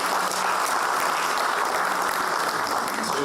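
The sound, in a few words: audience round of applause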